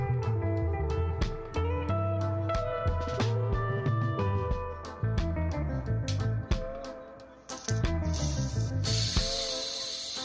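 Silicone oil sprayed onto a non-blowback airsoft Beretta M9A1 pistol: one short hissing burst of spray partway through, heard over steady background music.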